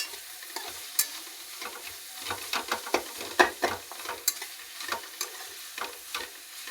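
Eggs fry in a pan for a biryani, a low sizzle broken by irregular scraping and clinking of a spatula stirring, close and unaccompanied by talk.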